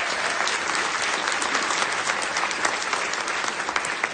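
Audience applause at a winter band concert hosted at Jesuit High School, a dense, steady wash of clapping from a large crowd that holds at full strength throughout.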